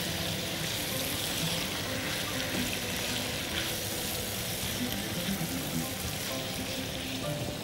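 Warm water poured into a pan of vegetables cooking in tomato sauce, giving a continuous hissing sizzle and splashing pour that runs steadily throughout at close range.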